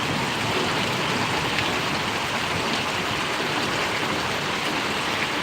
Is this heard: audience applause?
no